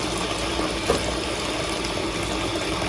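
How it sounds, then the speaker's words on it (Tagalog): Vegetables such as string beans, okra and eggplant are washed for pinakbet. Water pours and splashes in a continuous, fairly loud rush, close by and steady, with no talk. "Una, hugasan lang natin ang ating mga vegetables."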